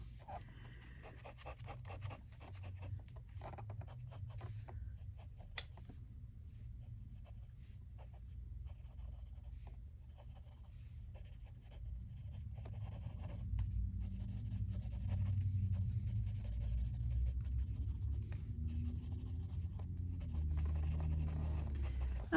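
Prismacolor colored pencil strokes on paper, soft quiet scratching and whisking in a steady repetitive rhythm, close up with no talking.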